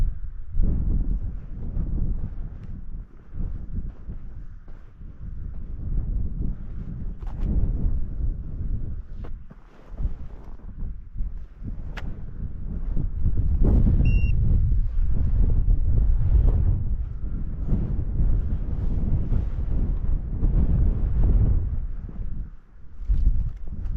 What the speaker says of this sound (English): The wind is directly at our backs